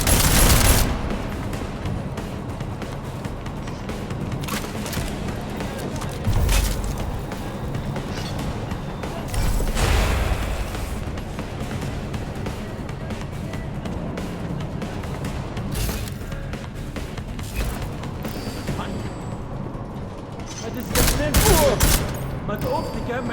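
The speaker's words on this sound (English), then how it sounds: "I'm gonna shoot." Gunfire rattles through a Warframe game session, with bursts of rapid shots and heavier blasts over a busy game soundscape, and a voice talking now and then.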